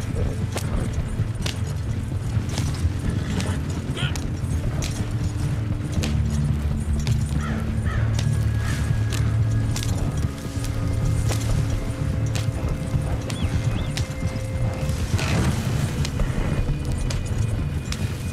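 A horse gallops in Red Dead Redemption 2, its hoofbeats running continuously under a dense, busy game soundscape with occasional clinks, a deep rumble and faint talk.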